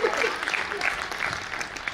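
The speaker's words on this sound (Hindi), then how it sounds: "ताली बजाइए" An audience at a Hindi comedy poetry gathering claps in a brief, dense round of applause, fairly loud and even for two seconds with no distinct voices.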